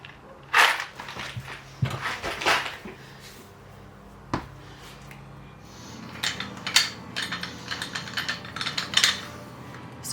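Square clamps are tightened onto cabinet corners during a kitchen renovation, giving intermittent ratcheting clicks and sharp mechanical clunks, close by, with quiet pauses in between.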